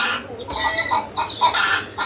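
A hen clucks close by in short, repeated bursts, each call sharp and fairly loud against a quiet background.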